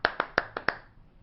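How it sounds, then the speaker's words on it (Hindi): Five sharp, separate hand claps ring out in quick succession, close and dry, then stop. Heard at a farmer-themed poetry gathering as a poet, Namita Naman, is welcomed. "तालियां से स्वागत करें"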